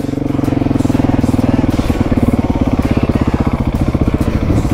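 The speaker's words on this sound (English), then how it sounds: "This motorbike's come up" A Husky 701 motorbike rides up close on Gobi Desert sand, its engine running loud and steady with a fast, regular chugging pulse that swells slightly as it nears.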